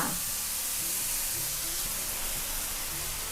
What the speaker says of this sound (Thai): ลูกชิ้นเริ่มสุกเติมน้ำเปล่าค่ะไม่ต้องเยอะนะคะ